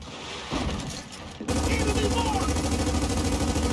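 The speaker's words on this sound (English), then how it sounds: "Mikey takes a moment to lay down some strafing fire" Strafing gunfire in Gears of War: after a short lull, rapid continuous automatic bursts start and keep pounding, loud and dense, with a rumbling low end and scattered higher effects on top.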